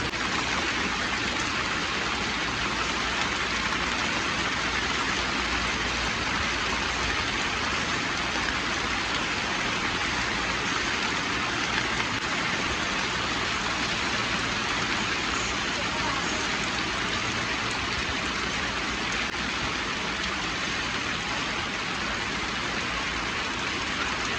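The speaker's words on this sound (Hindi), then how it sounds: "धूप निकली हुई है और बारिश भी देखें किस तरह हो रही है" Steady rain falls on a village while the sun is out, a dense, even patter on surfaces heard close and continuously without pause.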